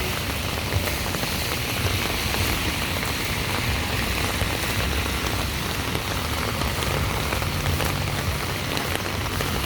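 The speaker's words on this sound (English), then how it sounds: "You can see it raining heavily here." Heavy rain pours steadily on a rainy day in Guyana, a dense, constant hiss of drops drumming on surfaces with no pauses, close and enveloping.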